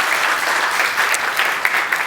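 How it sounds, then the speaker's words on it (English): Conference audience at AWS Summit Seoul applauding after a game engine talk, a steady wash of many hands clapping, loud and even across the whole stretch with no voices on top. "is that an encore applause?"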